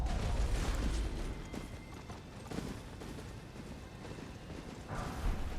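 Horse hooves in Elden Ring in the Royal Capital, a faint irregular clatter of hoofbeats, with some creaks and heavier thumps, and no talking.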